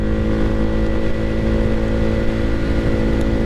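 A loud, steady motorcycle engine drone through a Leo Vince aftermarket exhaust, with a low, rumbling exhaust note, sustained throughout without pause or voices.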